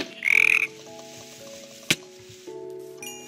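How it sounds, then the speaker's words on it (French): A frog croaks in a video game, one loud warbling burst at the start, followed by a brief sharp click and steady game music and ambience. "Oh, une grenouille."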